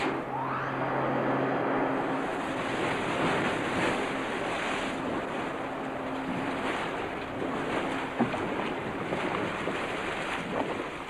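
Steady rushing, churning water with a continuous mechanical roar of water ride pumps lifting 12,000 gallons a minute, loud and constant throughout with no voices.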